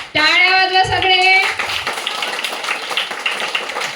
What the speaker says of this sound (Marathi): टाळ्या वाजवा सगळे.